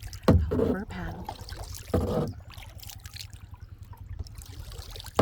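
Kayak paddle strokes dipping into calm water on a quiet morning, a couple of louder splashy strokes near the start followed by softer trickling drips, close by and fairly faint.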